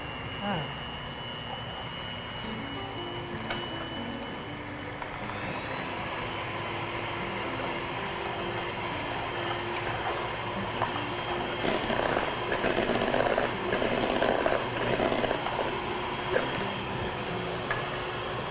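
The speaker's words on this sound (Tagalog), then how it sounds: "So, while Edwin is mixing, I'm going to beat the egg white." An electric mixer whirs steadily while beating egg whites for fresh coconut macaroons in a home kitchen, its motor hum continuous and rising in intensity midway, with faint kitchen clatter.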